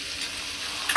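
Spices with salt and turmeric sizzle steadily in hot oil along with potato and papaya, a soft continuous fry under the pan that ends with a brief sharper crackle.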